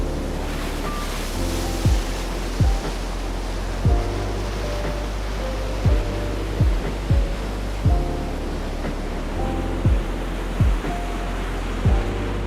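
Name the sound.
ocean waves breaking on the shore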